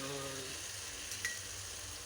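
Ingredients sizzle and fry in a hot pan while being sautéed, a steady close hiss with a faint clink of a utensil partway through.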